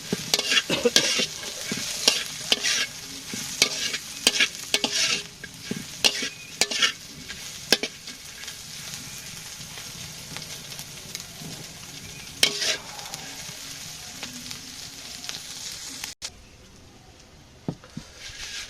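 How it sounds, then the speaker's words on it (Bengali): Fried onions being stirred and mixed in a sizzling pan, with frequent sharp spatula scrapes and taps over a steady frying hiss that grows quieter and sparser toward the end. "পেঁয়াজ ভাজি করা হয়ে গেছে এখন সাথে একটু মিশিয়ে দেই"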